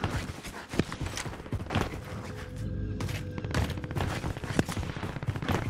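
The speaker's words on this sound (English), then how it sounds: "Gunshots coming from blue ping." Rapid gunfire in the game Call of Duty: Warzone, with many sharp shots and bursts in a fairly steady rhythm across the whole clip, some closer and louder, over a busy in-game background.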